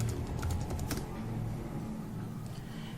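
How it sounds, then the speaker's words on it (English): An app name is typed into a phone search box, giving a quick run of light key taps that thin out into a quieter stretch, close-up with no voice. "Just type my app tester."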